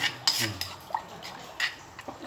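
A knife clicks and scrapes against a cutting board, slicing boiled pork into bite-size pieces in a few quick, light strokes, close by and fairly quiet.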